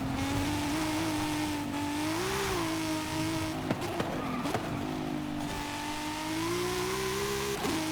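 A BMW in Forza Horizon 5 drives with a steady, continuous engine drone that rises and falls slightly with throttle, plus brief tire and impact transients midway, with no pause throughout.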